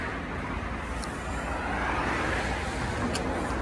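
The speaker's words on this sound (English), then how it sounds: "Sorry for the traffic noise." Steady road traffic roars near a tunnel or viaduct on a cold, almost-winter morning, a continuous dense rumble of passing cars and heavier vehicles, loud and unbroken, with no voices.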